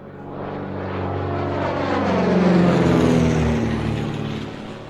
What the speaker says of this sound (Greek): 5 αεροσκάφη τύπου TBM Avenger απογειώνονται από την ναυτική βάση του Fort Lauderdale.